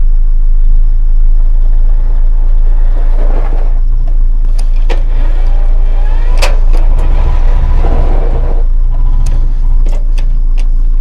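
A small Iseki tractor engine struggles to start, giving a steady low mechanical drone that runs close and fairly loud throughout, with a few sharper clanks over it.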